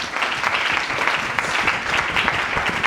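Church congregation clapping and acclaiming during a sermon, a loud continuous burst of applause with a dense, steady texture.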